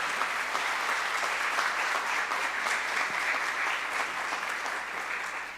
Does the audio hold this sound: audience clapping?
yes